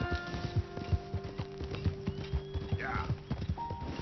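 In the video game Red Dead Redemption 2, a horse's hooves clip-clop in a steady walking rhythm, moderately close, with a faint snort or whinny partway through.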